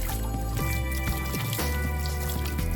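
A garden water tap runs over, with water pouring and splashing steadily in a constant close wash, and irregular drips and gurgles breaking through. No one speaks.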